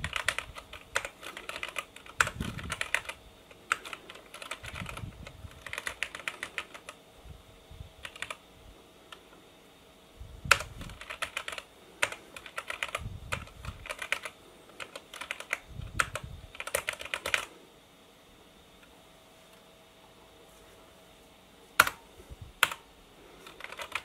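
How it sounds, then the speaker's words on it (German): Someone types on a Cherry G80 keyboard hooked to a retro 486 PC, with clattering bursts of keystrokes coming in uneven runs, then a pause and a few last isolated taps, close and clear. "probieren wir mal eine andere Tastatur. Mal sehen, ob die Cherry G80 unsere Hoffnungen bestätigen kann."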